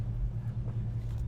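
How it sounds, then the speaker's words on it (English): A 1968 Plymouth GTX convertible on the road, its engine a steady low rumble with continuous road noise, even and unbroken throughout, heard from inside the car with no talking. "What an absolute pleasure it is driving this car."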